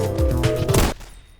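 Sniper rifle fire in the Phantom Forces video game: a loud, close, booming shot with a ringing, rattling tail that cuts off sharply after about a second.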